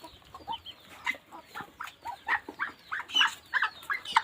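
Pet chickens and chicks cluck and peep in a quick, uneven series at feeding time, with ducks kept nearby, the calls close but soft against a quiet yard.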